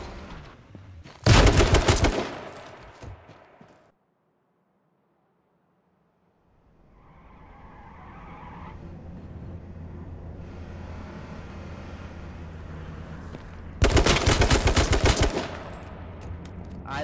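Two loud, rapid bursts of automatic gunfire ring out in the H1Z1 battle royale game, one near the start and one near the end, separated by a silent gap and a low vehicle-like rumble.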